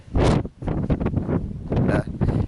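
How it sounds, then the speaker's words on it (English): Strong wind on the summit of Purple Mountain in the Gap of Dunloe buffets the microphone in loud, roaring gusts, rising and falling across the whole stretch, with a voice partly buried underneath. "It's so windy up here."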